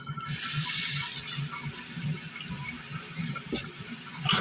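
Tap water runs steadily into a kitchen sink while thawed pork ribs are rinsed, a soft continuous hiss with faint splashing shifts near the end.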